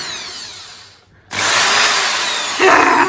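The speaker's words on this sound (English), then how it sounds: "With this drill, you can turn the speed up, down." A variable-speed power drill spins up loudly after a brief quiet gap, polishing a plastic vacuum cleaner tip, with a steady high whir that rises slightly in pitch toward the end.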